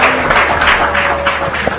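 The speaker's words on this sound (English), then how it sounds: "let's give them a round of applause as they walk out" Audience applause at a live charity givers' celebration event, a steady dense wash of clapping lasting a couple of seconds at even loudness.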